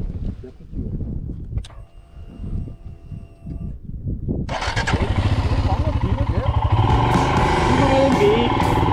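Royal Enfield Himalayan motorcycle with a holed exhaust, its engine note turning loud, steady and rough from about the midpoint after quieter idling, with people speaking throughout.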